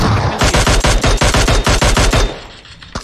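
Rapid volley of sniper rifle shots in the video game PUBG, about fifteen loud, sharp reports in quick succession over two seconds, then a short pause and one more shot at the end.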